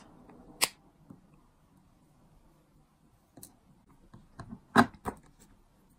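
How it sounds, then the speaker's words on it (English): Jewellery wire cutters snip through the end of a straightened metal head pin for beaded gemstone earrings, a few sharp, close clicks spread across a quiet background. "So I'm just going to cut that off with my cutters."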